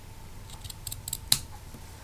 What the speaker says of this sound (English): you'll cut those with some good scissors